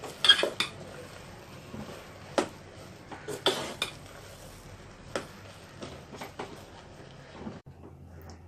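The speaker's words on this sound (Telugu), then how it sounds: "వేసుకొని బాగా కలుపుకోవాలి." Rice flour dough being stirred with a spoon in a pan over low flame for village-style jaggery kudumulu, giving irregular metallic scrapes and clinks at close range, with a quiet stretch near the end.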